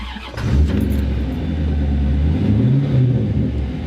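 A car engine with 92,000 miles on it runs loud and steady, a deep continuous rumble with a brief rise in pitch partway through, heard alone without talk.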